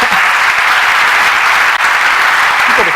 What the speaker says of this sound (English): You've got a clap.